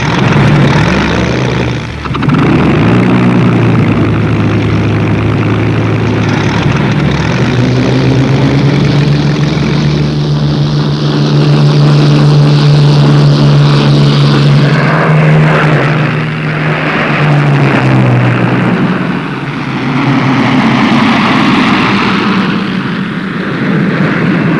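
Propeller-driven Supermarine Spitfire fighter engines drone loudly and continuously. The pitch rises and falls as the aircraft pass overhead, with no voices.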